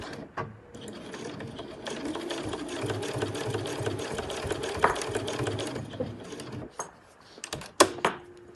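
A domestic sewing machine runs in a steady whir while stitching down one side of a backpack's front flap, with a back stitch at the top; it stops near the end, leaving a few brief clicks and handling noises.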